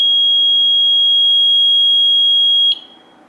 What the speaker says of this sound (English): The exit timer will then begin and you can now leave the property and the alarm will then set.